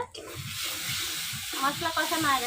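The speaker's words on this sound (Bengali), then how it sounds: "এই দেখেন মশলা দিয়ে তেল ছেড়ে দিছে, মশলা কষানো হয়ে গেছে।" Spice paste frying in oil in a pan for a Bengali village home-style dish of egg, brinjal and ridge gourd with poppy seed: a close, steady sizzle with a few soft stirring knocks, faint bubbling toward the end, and no talking.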